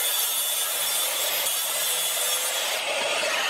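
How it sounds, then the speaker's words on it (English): A track saw running along a guide rail cuts through a sheet of plywood, producing a loud, continuous, hissing whine that holds steady from start to finish. "I laid my track saw guide rail down and made the cuts"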